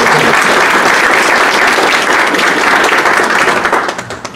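A church congregation applauding, a dense and steady wash of many hands clapping loudly and close, sustained throughout and tapering slightly at the very end.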